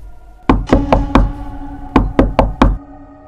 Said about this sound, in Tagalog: Nang maya-maya pa, ay muling may kumatok sa kanyang pintuan.